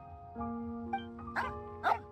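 A puppy in the Genshin Impact video game gives a few short, soft barks over a quiet sustained musical tone, spaced across about two seconds.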